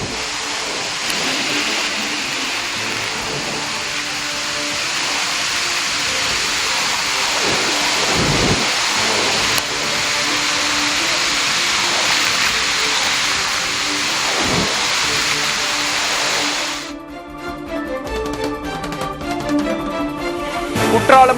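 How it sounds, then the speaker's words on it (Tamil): The flooding Aagaya Gangai waterfall in the Kolli Hills roars as a dense, steady rush of water for most of the stretch, then gives way to music near the end. "கொல்லிமலை ஆகாய கங்கை நீர்வீழ்ச்சியில் வெள்ளப்பெருக்கு."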